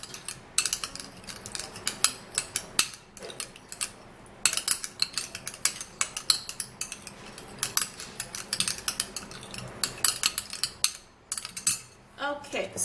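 Ingredients being mixed in a bowl with a spoon, giving quick rhythmic clinks and scrapes in bursts, close and fairly crisp, with brief pauses between runs.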